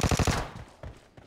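A rapid burst of automatic gunfire in the mobile shooter game PUBG Mobile, about five quick shots followed by a few scattered single reports, fairly close.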